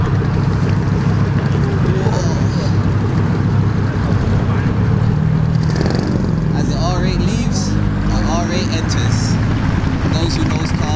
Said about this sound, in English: A Performante coming in.